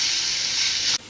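Onions chopped fine for a white soya bean curry hiss and sizzle steadily in hot oil in a pan, a close, loud, unbroken frying wash for about a second before it cuts off abruptly.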